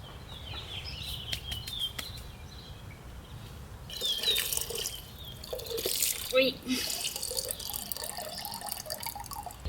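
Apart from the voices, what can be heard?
water dripping and draining slowly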